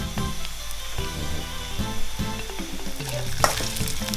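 Eel pieces stir-fried in hot oil, frying steadily and close up, with intermittent scraping and clacks of a utensil against the pan and no voices.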